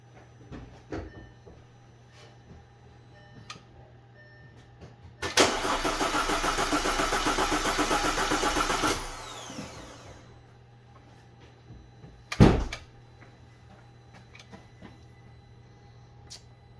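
A 2010 Audi A4 2.0T engine cranks on the starter for about four seconds during a cylinder compression test, a steady loud whirring churn that stops abruptly, followed later by a short sharp clunk.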